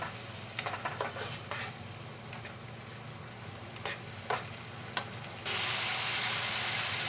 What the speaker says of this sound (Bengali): টমেটো পিউরিটা তেল ছাড়া অবধি বেশ কষাতে হবে খুব ভালো করে।